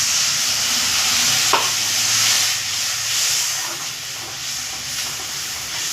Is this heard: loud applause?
no